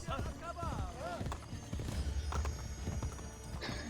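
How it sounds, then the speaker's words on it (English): Galloping horse hooves pound steadily in Assassin's Creed Brotherhood, a brisk clip-clop rhythm with occasional whinnies, mixed with game music and someone talking over it. "he ran over people with horses"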